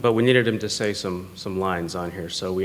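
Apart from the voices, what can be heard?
No distinct noise like a dog, phone or traffic.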